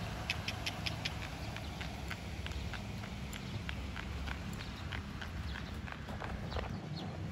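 A young horse trotting on a hard racing-track training field, its hoofbeats a steady, regular clip-clop close by over constant outdoor rumble and wind, with no talking.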